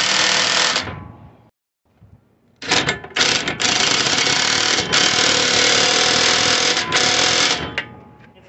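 Impact wrench tightening bolts on a 2007 Nissan Sentra 2.0 during a lower control arm replacement, loud close rattling bursts with a short pause near the start, then long sustained hammering runs.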